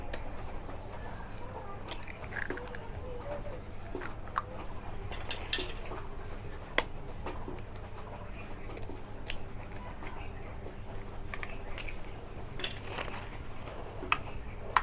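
Eggs being beaten with salt in a bowl for Mughlai paratha, a steady run of light clinking and tapping of utensil against the bowl, close and fairly quiet, with occasional sharper clicks.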